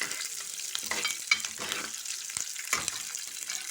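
Green chillies and peanuts frying in hot oil while being stirred, a steady close sizzle with crackling and scraping strokes of the spoon, no voices.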